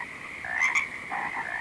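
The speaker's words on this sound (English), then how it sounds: "it is the home of hundreds of frogs. Croak, croak, croak, croak, ribbit," A dense night chorus of frogs, hundreds of them, croaking and ribbiting in short repeated bursts that rise and fall close by, with no talking.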